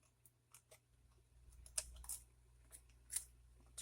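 Scissors snip through a book page, several crisp close cuts in quick succession over a low background hum, quiet and without talk.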